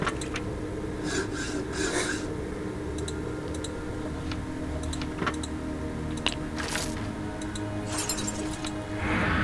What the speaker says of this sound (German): Ich würde erstmal sagen, die Säge.